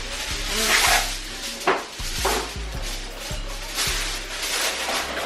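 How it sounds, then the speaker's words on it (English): A plastic fork stirs melting butter in a saucepan on a stovetop, giving a series of soft, irregular scrapes and taps against the pan over a low background hiss and faint sizzle. "just stir the butter around"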